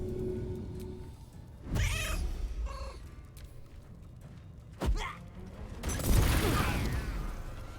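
A cat meows in a Baldur's Gate 3 game, a few drawn-out yowling calls rising and falling across several seconds, fairly close, with thuds and game noise between them and no talking.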